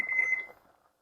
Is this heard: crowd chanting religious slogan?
no